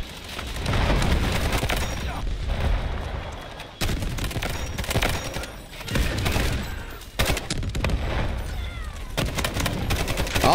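Rapid gunfire and explosions fill a Delta Force video game match, with dense overlapping bursts and booms and a few short drops in the din.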